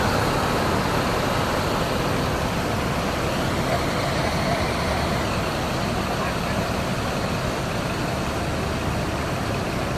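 Intercity bus cruising on an Indonesian toll road, a constant broadband roar of engine, tyres and road noise filling the whole stretch without letup.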